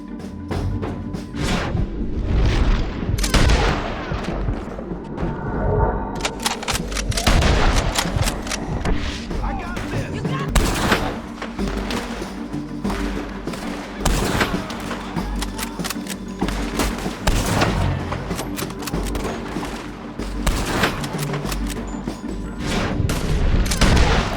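Heavy gunfire during a Red Dead Redemption 2 epilogue shootout: loud, dense bursts of shots and booming reports over twenty-odd seconds, nearly constant with brief lulls and some heavier thuds.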